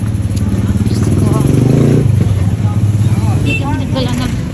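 A motorcycle rides through a Divisoria street, its engine a loud, steady rumble close by, while people talk over the noise.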